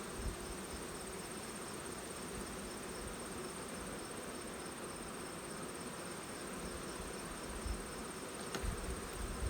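Honey bees buzz in a dense, continuous drone inside a plastic sampling tub, faint and steady with a slight rise near the end.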